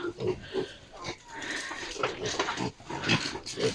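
Native piglets grunt and squeal in a mountain pen, with many small grunts overlapping in an irregular rhythm close by and someone speaking now and then.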